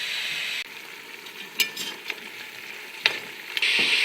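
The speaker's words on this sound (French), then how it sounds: "On rajoute les oignons et les petits oignons mixés dans la viande qui est bien dorée maintenant." Lamb for mafé browns in a pot, with a steady sizzle and scattered scrapes and clinks as it is stirred, close by and with no talking.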